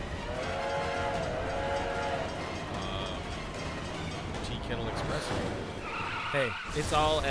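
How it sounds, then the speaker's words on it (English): A train wreck in the LittleBigPlanet 2 video game, a loud skidding, grinding rumble with whistle-like tones and clattering crashes building toward the end, heard under the steady noise of the game. "The train wreck."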